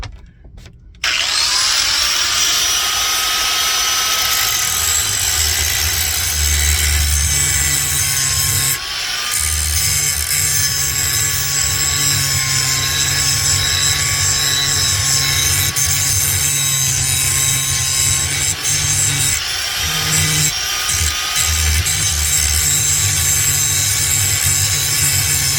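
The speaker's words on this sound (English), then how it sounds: "I'm just gonna grind on an old pipe wrench that I have" A Harbor Freight bench grinder grinds an old pipe wrench, a loud, steady whine with a continuous rough rasp that runs for about twenty-five seconds, dipping briefly twice as the contact eases.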